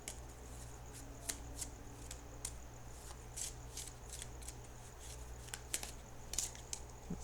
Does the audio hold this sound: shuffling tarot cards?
yes